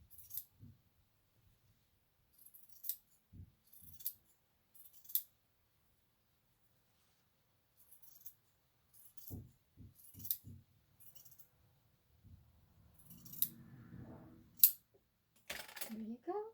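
Scissors snip through excess prom dress fabric in several short, quiet bursts spread apart, with faint handling noises between cuts.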